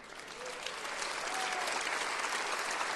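A church congregation breaks into applause that swells and then holds steady as a dense, moderately distant clapping, with no voices heard clearly.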